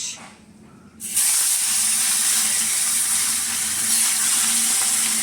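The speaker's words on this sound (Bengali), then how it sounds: "দেখো কড়াইয়ের তেলটা বেশ গরম হয়েছে। আমি এখন দিয়ে দেবো একে একে মাছ।" Fish dropped into hot oil in a wok (kadai), a loud sudden sizzle that bursts in after a quieter second and then holds as a steady, close hiss.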